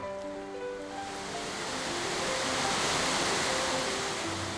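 Steady, broadband rushing of a waterfall in a canyon, heard from nearby, swelling slightly over a few seconds, with no voices.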